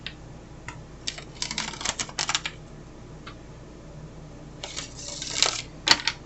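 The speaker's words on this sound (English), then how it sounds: "they want me to shuffle again" Tarot cards are shuffled in quick riffling bursts and soft clattering flicks, close and fairly quiet, coming in uneven clusters with brief pauses between them.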